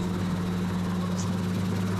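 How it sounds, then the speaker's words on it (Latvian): A helicopter on its first test flight hovers close by with a steady, loud droning whir and a constant low engine hum, unbroken and with no voices. "es praktizējos vairāk šajā virzienā pret vēju, jo šeit ir vieglāk gan pacelties, gan nolaist helikopteri"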